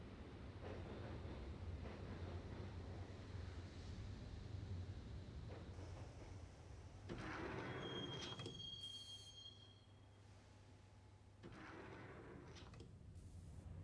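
A subway train in the Max Payne video game rolls toward Roscoe Street Station with a steady low rumble and clatter, and a sharp metallic wheel squeal rises partway through before the ride settles back into its drone.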